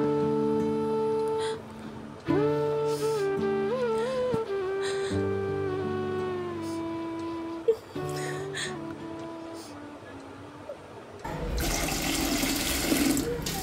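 Water is poured into milk in a steady, splashing rush during the last couple of seconds, after a long stretch of tuneful music.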